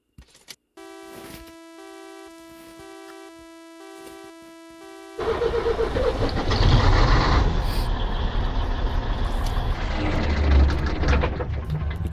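An orange truck hauling large cargo in Grand Truck Simulator during a daytime drive: after a stretch of tonal menu chimes, a loud engine drone kicks in abruptly and rumbles on steadily.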